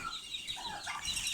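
Turkey poults and chicks cheep and cluck softly in a steady, busy chatter, close by and without any talking.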